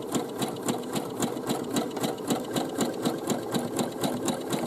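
A sewing machine runs a zigzag stitch along the bottom seam of a cloth bag, its needle chattering in a fast, steady rhythm throughout, close and clear with no talking.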